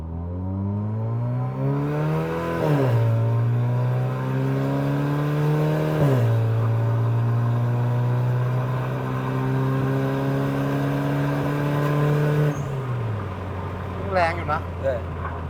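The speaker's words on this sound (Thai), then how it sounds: "ลองไล่เกียร์ดูโคตรเท่อะ" A vehicle engine revs loudly up through the gears, its pitch climbing and then dropping at each shift, three distinct pulls before it settles to a lower idle with some faint clatter near the end.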